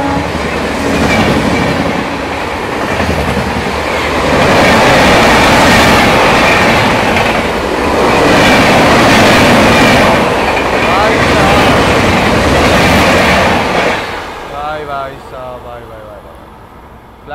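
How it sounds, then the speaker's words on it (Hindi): 15734 Bathinda Balurghat Farakka Express passing close by via Sultanpur, a loud sustained roar of rolling coaches with rhythmic clatter that swells, holds, then fades as the last cars go by. "सामने से आती हुई 15734 भटिंडा बालूरघाट फरक्का एक्सप्रेस वाया सुल्तानपुर आती हुई।"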